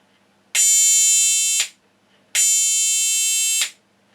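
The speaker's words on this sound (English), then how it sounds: "Every time we operate the switch, the buzzer goes." An electric buzzer on a continuity tester sounds twice as a switch is operated, each a steady, loud, harsh tone lasting about a second, separated by a short silence.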